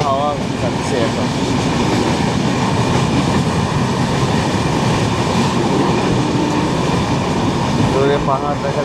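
A passenger train runs through hilly country with a loud, steady rumble and rattle heard from inside the carriage, continuous throughout, with faint voices underneath.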